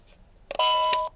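A soft click or two on a talking clock button, then a clear electronic beep tone that holds for about half a second before cutting off.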